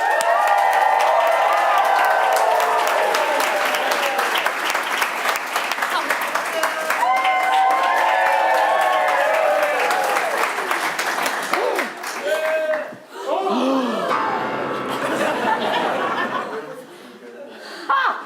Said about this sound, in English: comes on stage to uproarious applause.